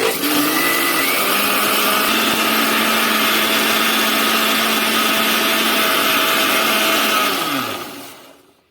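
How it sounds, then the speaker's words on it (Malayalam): A mixer grinder jar, lid on, grinds soaked rice and water into a smooth batter for kalathappam, a loud steady whir that runs unbroken for about seven seconds before winding down to silence. "ഇനി ഇതിനെ നമുക്ക് മൂടിയിട്ട് ഒന്ന് നൈസായിട്ട് അരച്ചെടുക്കണം"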